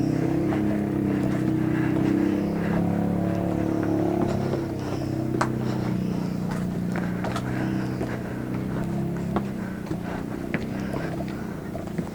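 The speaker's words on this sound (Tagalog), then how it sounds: "May tricycle na akong naririnig." A motorized tricycle passes somewhere on a hillside trail near Taal Lake in Cuenca, Batangas, its low engine drone steady and moderately distant under wind and scattered small knocks.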